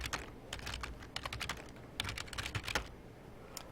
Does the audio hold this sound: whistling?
no